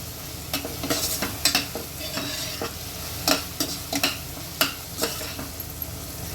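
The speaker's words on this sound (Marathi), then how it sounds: "आपण हा पाव चमचा सोडा टाकून देणार आहोत आणि एक दोन मिनटं छान कांदा शिजू देणार आहोत" Golden-brown onions cook in a pan with a quarter spoon of baking soda, a steady close sizzle broken by repeated scraping stirs of a spoon against the pan, with no talking.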